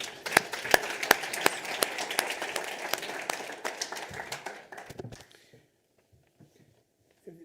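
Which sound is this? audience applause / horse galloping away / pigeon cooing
audience applause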